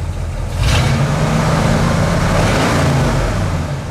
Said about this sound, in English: Rev engine.